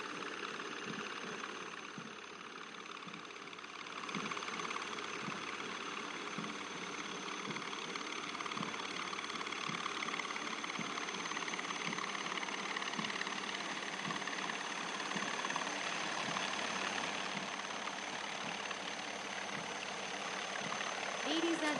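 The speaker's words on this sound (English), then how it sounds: "You can see one cheetah and two Chetak helicopters of 665 Army Aviation Squadron in PATS formation, proudly carrying the national flag" One Cheetah and two Chetak helicopters of an Army Aviation Squadron fly past in formation over a passing out parade, a steady broad engine and rotor roar that holds throughout the clip.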